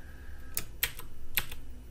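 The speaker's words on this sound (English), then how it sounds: "So I'm gonna go ahead and use the keyboard shortcut Control U" A computer keyboard shortcut, Control U, is pressed: a few quick, crisp key clicks close by in a quiet room.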